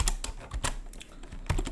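Fingers typing a command on a computer keyboard during an Ubuntu Linux setup, a quick run of close, crisp key clicks with a brief pause before a final cluster of taps.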